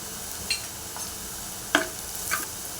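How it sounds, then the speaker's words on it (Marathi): Curry leaves and green chillies sauté in a pan under a low, steady sizzle, with a few isolated spatula clicks and scrapes against the metal, fairly quiet and close. "कढीपत्ता आणि हिरवी मिरची परतून घेऊया दोन मिनिटभर"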